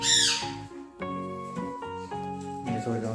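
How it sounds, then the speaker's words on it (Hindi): A hill parrot gives loud, harsh squawks followed by a series of clear, tonal whistled calls, close to the listener. "नहीं नहीं, ये पहाड़ी तोता है।"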